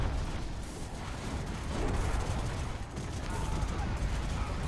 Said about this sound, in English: Those quad cannons and the minigunners just absolutely destroying the aircraft